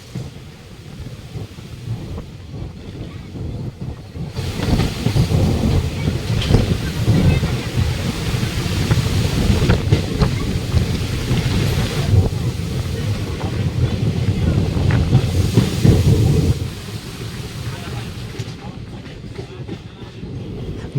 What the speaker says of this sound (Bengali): 2245 মিটার দৈর্ঘ্যের এই ফারাক্কা ব্রিজটি কভার করতে ট্রেনটির সময় নিল মাত্র 4 মিনিট।